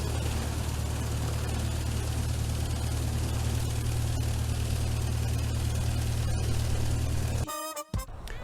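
Steady carbureted piston aircraft engine running at a constant drone, loud and close, with a low rumbling hum that continues unbroken before cutting to a brief choppy burst at the end.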